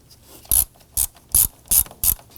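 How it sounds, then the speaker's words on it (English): A ratchet snugs down the negative battery terminal on a 2015-2024 Nissan Murano 3.5L V6, giving five sharp, evenly spaced clicking bursts up close with short quiet gaps between them. "And let's go ahead and snug that down."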